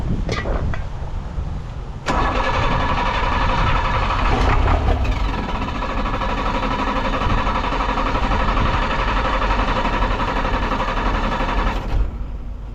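An old sealcoat truck engine with a stuck injector cranks, catches and then runs roughly, the loud, steady engine noise continuing close by after a couple of sharp bangs.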